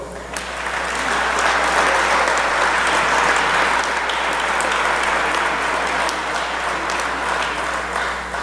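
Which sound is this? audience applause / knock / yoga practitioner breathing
audience applause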